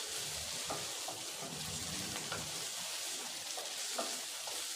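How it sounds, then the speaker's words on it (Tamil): Vegetables with long-cut green chillies sautéing in a pan, a steady close sizzle with occasional stirring clinks and scrapes throughout, no talk. "இப்போ காயெல்லாம் ஓரளவுக்கு நல்லா வதங்கிடுச்சு."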